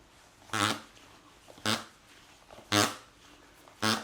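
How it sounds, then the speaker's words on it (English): A DVD box set squeezed at its edges lets out four short, buzzy, fart-like blasts spaced about a second apart, each one close and fairly loud against a quiet background. "that gives me that farting sound"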